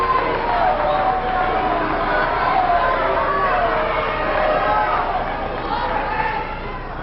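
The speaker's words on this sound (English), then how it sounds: "Crowd booing a little bit." Wimbledon tennis crowd booing a baseline call during a 1995 quarterfinal, a steady low murmur of disapproval and chatter from many spectators, dense and continuous throughout.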